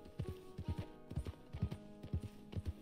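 Horse hooves clip-clopping in the Red Dead Redemption 2 video game, a steady rhythmic series of close hoof beats in quick pairs over a faint background, with no voices.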